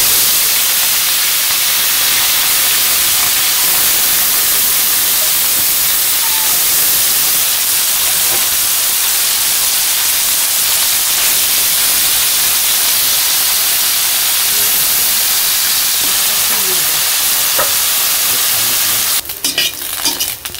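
Small fish frying in hot oil in a village kitchen, a loud, dense, continuous sizzle throughout that ends with a brief clatter of cookware.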